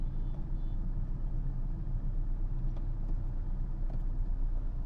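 A car driving along MC Road in North Chennai with a steady, close engine rumble and road noise that holds at an even level throughout, with no voices.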